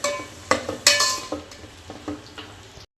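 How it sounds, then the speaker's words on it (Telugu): Spinach paste for palak paneer is cooking in a pan, with a soft sizzle under repeated spoon scrapes and clinks against the metal at close range, followed by a brief silence near the end. "పేస్ట్ అంతా బాగా మగ్గనిచ్చుకోవాలి."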